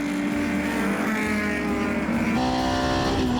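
Vintage race cars, a Datsun leading and a 1969 Mazda R100 among the pack, charge loudly toward a corner, their engines a steady, dense roar with a sustained drone shifting pitch partway through.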